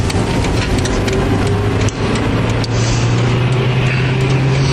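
A car drives along a road and pulls out to overtake: a steady, loud engine drone and tyre roar continue close and unbroken, with a brief dip partway through.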